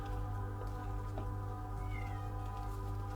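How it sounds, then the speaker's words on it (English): A cat calls from outside, asking to be let in, heard as faint, distant meows over a loud, steady low hum that fills the whole recording. "I can hear my cat calling outside, wanting to come in."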